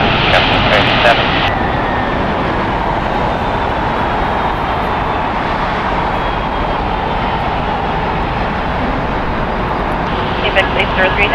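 A United Airlines Boeing 737 MAX 9 departs from LAX, a loud continuous jet roar filling the whole stretch, with brief radio chatter tones at the start and end.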